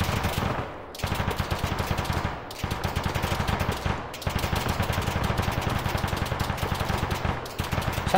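Automatic weapons fire in Arma 3, sustained rapid bursts of loud gunfire rattling almost continuously with only brief gaps between them, close and dense.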